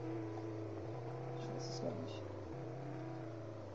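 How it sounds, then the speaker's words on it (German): A Toyota AE86 car engine in the Roblox video game drones steadily at a constant pitch throughout, with a brief dip in tone partway through and a faint high chirp near the middle. "ein Toyota, aber ich weiß nicht welches Modell. AE86, okay."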